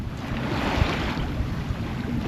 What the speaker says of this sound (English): There's the ocean rollers are interesting.